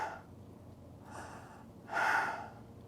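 Two quick, tense breaths taken high in the chest without the diaphragm; the second is a louder, sharper gasp close to the listener.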